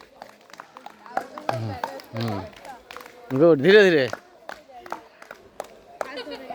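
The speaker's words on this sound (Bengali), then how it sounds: "তোমরা হাততালি দাও" Children clap scattered, uneven beats at a balance race, the crisp hand claps cropping up between and beneath an adult's encouraging talk and children's voices.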